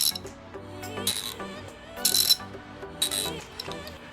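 DeWalt and Milwaukee hand ratchets are worked back and forth, giving bursts of rapid fine metallic clicking from the pawls, close and crisp, in three separate runs with short pauses between.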